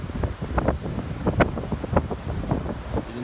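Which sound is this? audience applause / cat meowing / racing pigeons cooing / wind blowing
wind blowing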